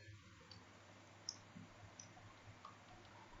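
A computer mouse clicks once on a save button while saving an HTML file, a short sharp tick over a low background hum.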